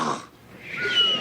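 Children's voices mimic a man's snoring, producing a brief wheezy, snorting rasp with a breathy rise at the end, close and fairly loud, over about a second.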